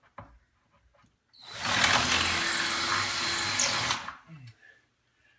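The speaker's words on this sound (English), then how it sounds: "We're going to start with drilling the holes." A power drill whirs loudly and steadily for about three seconds, drilling holes in a kitchen cabinet to mount LED strip lighting, starting abruptly and stopping, with quiet surroundings before and after.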